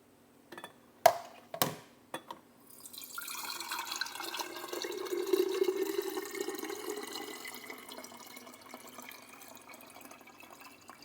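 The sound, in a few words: buttermilk being strained off homemade butter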